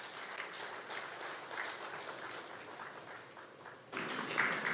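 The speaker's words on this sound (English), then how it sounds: "Please let's give him another round of applause." A conference hall audience gives a round of applause for the Secretary General of the Gas Exporting Countries Forum at a Nigerian energy event, with faint, moderately dense clapping that swells slightly near the end.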